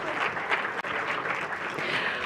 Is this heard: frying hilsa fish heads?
no